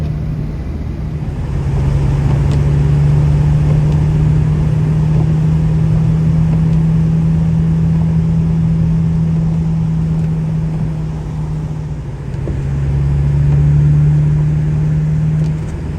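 Saab car driving along a country road, a steady loud engine drone held throughout with a brief dip and rise near the end, cabin noise and no talk.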